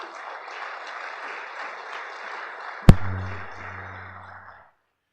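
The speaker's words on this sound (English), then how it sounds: "a nice round of applause for all those good folks" Audience applause at the Dave Cowens Awards ceremony, a steady wash of many hands clapping for about three seconds, cut off by a sharp thump followed by a low electrical hum that fades out.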